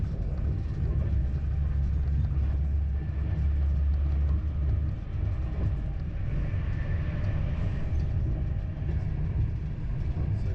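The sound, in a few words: Avanti Pendolino train accelerating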